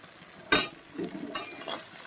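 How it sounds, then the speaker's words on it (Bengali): Bhola fish fries in a pan with salt and turmeric, giving a soft sizzle broken by a sharp close scrape of a stirring utensil and a few lighter scrapes after it. "এটাকে আরও ভাজতে হবে"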